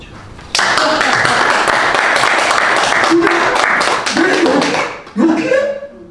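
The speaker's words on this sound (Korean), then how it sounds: "박수 한번 쳐." An audience at a business lecture breaks into loud, dense clapping that starts abruptly and holds steady, then thins out near the end as a voice resumes talking over the fading applause.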